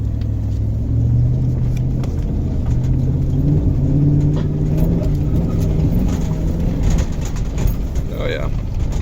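A Federal Tahoe lurching across a rough old farm field, engine rumbling low and steady inside the cabin with knocks and rattles from bouncing, plus muffled voices.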